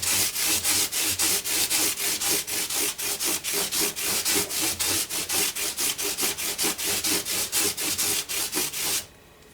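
Fine 2400-grit sandpaper rubbed back and forth along the wooden fretboard of a Gibson SJ-150 acoustic guitar, a steady rhythmic scratching of quick even strokes, close and loud, with no talking, stopping abruptly at the end.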